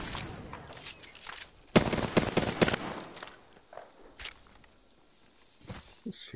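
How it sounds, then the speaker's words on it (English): Bursts of gunfire from the Apex Legends battle royale game, with a cluster of rapid shots in the middle and scattered single shots before and after, fairly close, over low game ambience. "He's shooting at us?"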